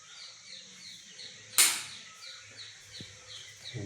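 Birds singing at dawn in a village, a faint repeated chirping call in the background, cut once by a sharp loud clack and a few soft thuds nearby.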